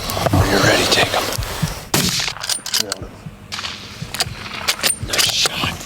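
A rifle shot fired at a caribou during a hunt cracks sharply out of steady wind and outdoor rumble, with a few other brief knocks and clatters around it and no voices.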